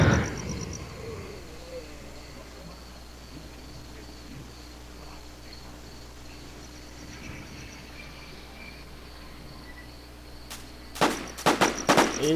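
Gunfire in the video game Infestation: Survivor Stories, a quick cluster of sharp shots bursting at the very end after a long stretch of quiet ambience with faint insect-like chirping.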